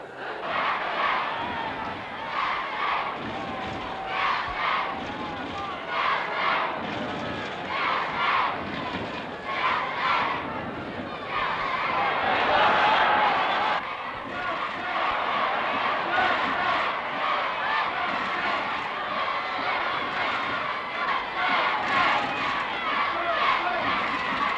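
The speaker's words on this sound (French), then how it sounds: "Dans cette foule, dans cette bousculade" Large crowd of football supporters at a Chelsea match in 1971, a dense continuous roar of many voices and bustle, steady and loud throughout with a swell partway through, people talking within the mass of sound.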